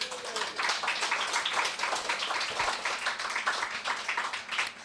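An audience at a Perth poetry club evening breaks into sustained applause, many hands clapping densely and steadily in a room, close and even throughout.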